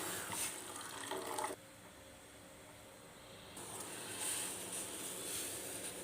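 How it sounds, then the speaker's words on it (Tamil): Toor dal water is poured into simmering pepper soup, a soft close splashing pour in two bursts separated by a quieter pause, with no talking. "இப்போ துவரம் பருப்பு தண்ணி ஒரு கப்பு சேர்த்துக்கிறேன்."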